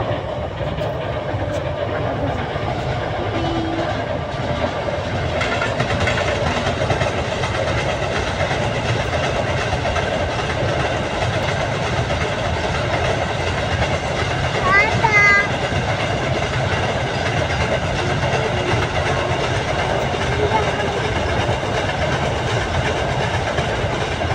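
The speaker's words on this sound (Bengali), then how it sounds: "আর পাশে ট্রেন রাস্তা, ট্রেন দেখো।" A train runs along tracks beside a flooded small river, producing a steady, loud rumbling roar with faint rhythmic clatter that continues unbroken, heard outdoors.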